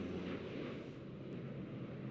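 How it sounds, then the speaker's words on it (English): F-111 Aardvark jet strike aircraft flying, a steady broadband roar that stays loud and even across the short stretch, with no talk over it. "The F-111 Aardvark was the U.S. Air Force's premier strike aircraft for the majority of the Cold War"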